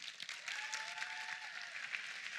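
A crowd at a conference keynote claps steadily throughout, a dense wash of applause with no pause, fairly loud and close.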